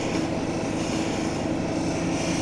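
Lapidary soft wheel grinding a piece of Brazilian agate, a steady loud droning whir with constant grinding hiss throughout, close and unbroken.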